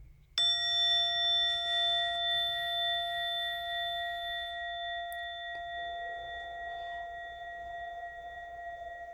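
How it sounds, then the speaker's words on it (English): A bell or chime rings out once, with a bright struck attack that then fades slowly over several seconds into a quiet sustained hum, alone over a faint low background rumble. "in a moment, you will hear a bell or a chime. Listen to it as it gets quieter and quieter"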